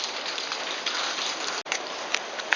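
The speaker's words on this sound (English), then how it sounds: "it's raining as we all walk into our hotel" Rain falls steadily in the Galapagos as people walk toward a hotel, a dense close hiss of drops on surfaces with a brief dropout and a few sharper splats near the end.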